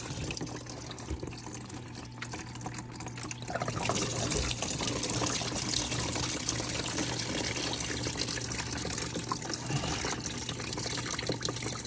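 Coolant running out of the lower radiator hose of a Mercedes-AMG 4.0 M177 V8, a light trickle that swells after a few seconds into a steady, louder splashing pour that continues close by to the end.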